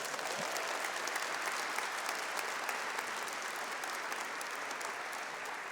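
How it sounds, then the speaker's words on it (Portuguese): A church congregation claps in a continuous, dense wash of applause that stays even and steady from start to finish, with no voices rising above it. "Aplauda isso em nome de Jesus."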